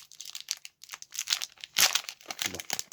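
A Digimon Classic Collection booster pack is torn open by hand, its foil wrapper crinkling and ripping in quick, close, irregular bursts with no talking.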